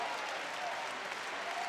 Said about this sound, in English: The Danish fans applauding their gladiators